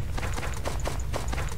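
Quick, even clip-clop of horse hooves in the Death's Gambit video game, a steady trotting beat of close, crisp hoof strikes over a low game soundscape.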